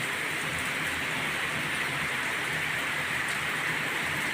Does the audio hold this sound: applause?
no